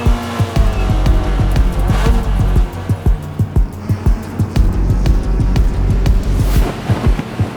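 Race car at speed on a circuit during a Gridlife touring-car race, loud engine revving with repeated sharp gear-change bursts and rising and falling pitch as it laps, close and steady throughout.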